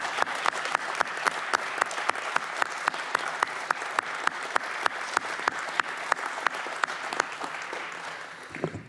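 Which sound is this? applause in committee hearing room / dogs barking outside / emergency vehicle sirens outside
applause in committee hearing room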